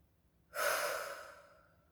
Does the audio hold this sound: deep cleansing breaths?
yes